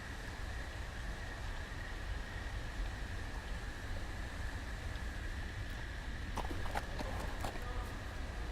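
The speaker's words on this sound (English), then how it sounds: "Man, that is one jittery horse." Horse hooves clip-clop in a Game of Thrones video game, a steady rhythm under a constant background bed, joined late by a few sharp clatters as the jittery horse moves.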